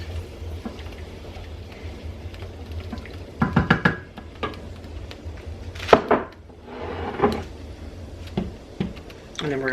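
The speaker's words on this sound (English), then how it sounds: "Give it a stir." A spoon stirs a creamy tomato basil sauce for shrimp and salmon in a pan, giving a few scraping, knocking strokes over a low simmer, close by, with some voice in the background.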